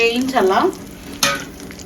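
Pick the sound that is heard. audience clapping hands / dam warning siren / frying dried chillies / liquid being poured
frying dried chillies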